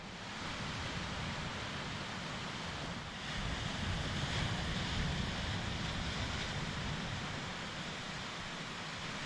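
Ocean waves and surf at sea during a proa sailing expedition, heard as a steady, full wash of breaking water mixed with wind rumbling on the microphone, swelling slightly midway, with no voices.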